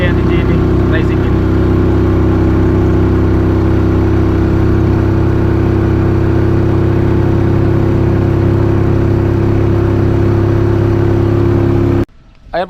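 A motorized tricycle engine drones steadily and loudly close by for about twelve seconds before the sound cuts off abruptly, followed by a brief rustle.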